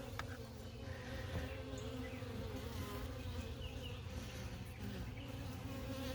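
Many honeybees buzz continuously around an open hive during queen rearing work, a dense, even drone with no voices.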